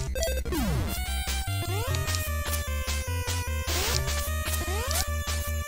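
Boss stage music from the NES game Bonk's Adventure, a loud driving chiptune with a pounding bass beat, fast sweeping synth runs and dense electronic layers playing continuously with no talk.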